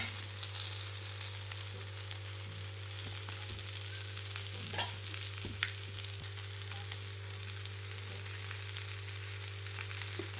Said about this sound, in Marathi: आता हे मासे बारीक गॅसवरती ठेवते आहे मस्त कडक होत आहेत